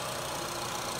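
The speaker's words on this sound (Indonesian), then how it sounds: "Dan ini suara mesinnya" A 1500 cc i-VTEC engine in a 2015 Honda Freed idles with a steady, even hum and no harsh knocks, heard close by.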